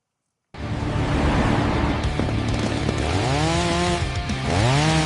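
A chainsaw in an AI-generated anime scene runs steadily and loudly for several seconds with a buzzing engine drone, then revs up and down in rising and falling sweeps near the end.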